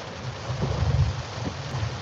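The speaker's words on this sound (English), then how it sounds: "It's raining, it's crazy." Rain falling outside, a steady dense hiss with a low rumbling swell in the middle, heard without any talk over it.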